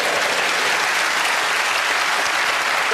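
A studio audience at a TV panel show breaks into loud, sustained applause, a dense wash of clapping hands that holds steady from start to finish with no voices over it.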